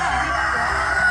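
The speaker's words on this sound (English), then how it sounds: "This is our chicken." A Partridge Brahma rooster crows in one long, sustained call that fills the whole moment, loud and close with no talk over it.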